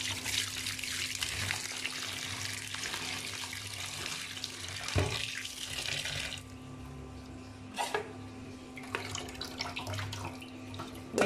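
Boiled noodles are rinsed under a running kitchen tap, a steady close splash and hiss of water that thins out partway through, with a few clinks and bumps.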